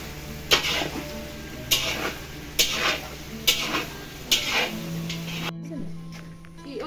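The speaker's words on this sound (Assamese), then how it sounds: "এইখিনি অকণমান হেৰি ড্ৰাইকৈ ভাজিব" Goat meat stir-fried dry in a pot, with a spatula scraping and clanking against the metal in regular strokes about once a second over a soft, steady sizzle, recorded up close at moderate volume.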